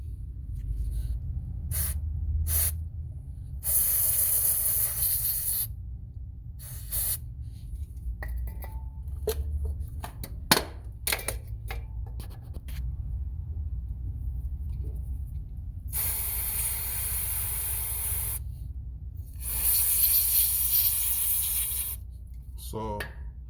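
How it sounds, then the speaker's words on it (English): Electrical contact cleaner sprays from an aerosol can into a Pontiac Grand Am's disconnected ABS sensor connector, several close hissing bursts, a few seconds each, with clicks and handling noise in the gaps. "start spraying this cleaner inside the connection"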